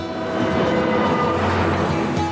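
A passenger train running on a Finnish railway, heard as a steady loud rumble with rhythmic wheel clatter and a faint high whine throughout, with no talk.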